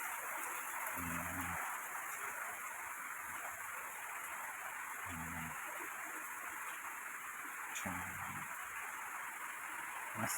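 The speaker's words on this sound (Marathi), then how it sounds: "कणकवलीचा पाऊस." Steady rain falling in Kankavli in the Konkan, a continuous even hiss close by, broken by three short low thuds.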